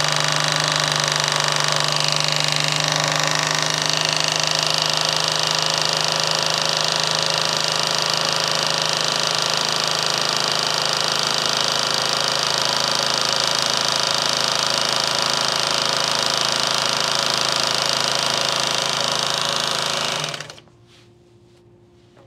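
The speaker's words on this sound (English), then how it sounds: "this is gonna get loud because I have to wind my bobbin now" A home sewing machine winds a bobbin with a loud, steady high-pitched mechanical whir that runs without pause for about twenty seconds, then cuts off abruptly into near silence.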